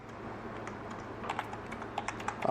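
Someone types an email on a computer keyboard: soft, close key clicks in an uneven rhythm over a quiet room hum, getting a little sharper toward the end, with no talking.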